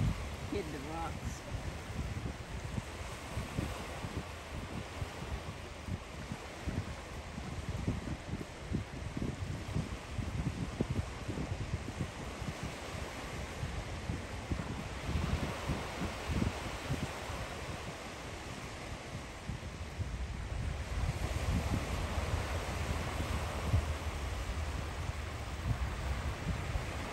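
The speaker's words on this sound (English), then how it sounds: "I like the way the water hit the rocks." Beach water washing against rocks, a continuous rushing surge with wind noise and scattered splashes, growing somewhat louder toward the end.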